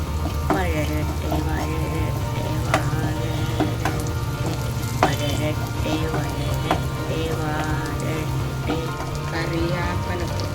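Vegetables with chilli powder, coriander, fenugreek, cumin and garam masala sauté in a pan for a Kerala-style vegetable curry (gojju), giving a steady close sizzle with scattered sharp clicks of stirring against the pan.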